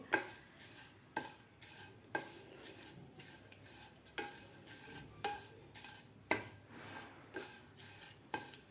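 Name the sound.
roasting vermicelli in a pan on medium gas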